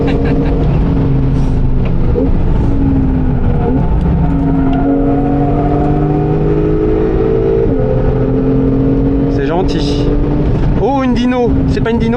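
A Chevrolet Corvette race car engine drones loud and steady on a circuit, its pitch gliding up and down through gear changes as other cars pass, with spectators talking throughout.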